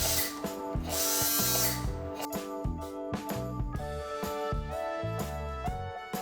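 Low-speed dental handpiece on a D-Pro dental unit, started by a foot pedal, gives a steady mechanical whir with rattling, ratchet-like ticking and shifting tonal whines, loud and close, with no talking.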